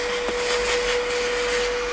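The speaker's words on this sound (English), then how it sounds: "and obviously straight into the vacuum cleaner" Vacuum cleaner drawing debris off a dense bristle brush, a steady close whir throughout with a brief click near the start and no talk.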